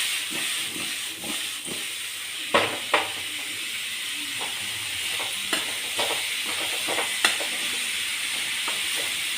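Mushrooms frying in masala in a pan, a steady hiss of sizzling with a few sharp clicks and stirring knocks scattered through, close and continuous without talk.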